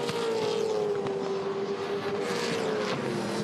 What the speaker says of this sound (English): Big V8 supercar, plenty of horsepower.